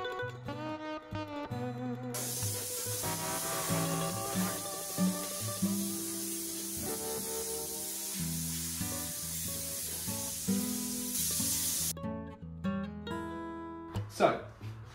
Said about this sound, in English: Now it's time to give the body a thorough blown over and degrease ready for seam sealer.